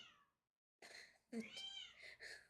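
A cat meows a few times close by, drawn-out plaintive calls with a short pause between them and a soft breath at the start.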